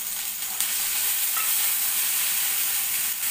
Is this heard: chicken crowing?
no